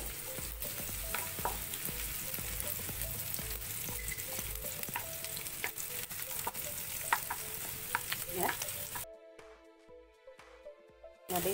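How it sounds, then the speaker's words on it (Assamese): Onion fries in hot oil while being stirred for a dry fish chutney, a dense close sizzle with scraping and clicking utensil strokes, then a quieter stretch of regular ticking near the end, with no speech. "দেখিছে নহয়, ভাজি লৈছোঁ পিঁয়াজটো।"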